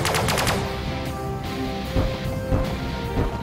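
Sci-fi pulse weapons fire in the space strategy game Sunrider: a rapid burst of sharp, crackling shots at the start, then a few heavier blasts and impacts over a sustained roar.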